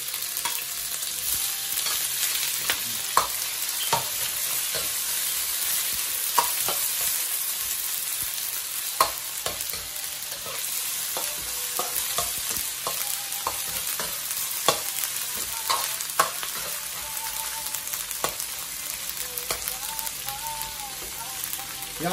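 Beef stir-frying with garlic paste in a pan, a steady close sizzle with scattered scraping clicks of a spatula throughout, continuous and fairly loud, no voices.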